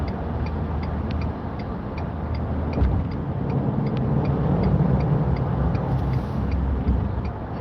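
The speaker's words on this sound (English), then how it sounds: "Heard a little rumble from his VTEC Acura underneath that." A VTEC Acura car's engine rumbles low and steady throughout, a continuous near drone with faint ticking above it and no speech.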